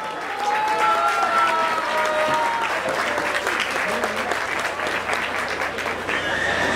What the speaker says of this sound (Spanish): Le brindamos un fuerte aplauso, por favor.